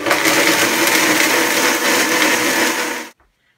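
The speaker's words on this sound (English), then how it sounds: "Then I'm going to blend this on a medium to low speed first." A blender whirs oats and cashew nuts at medium-low speed, giving a loud, steady grinding roar for about three seconds before it cuts off abruptly into silence.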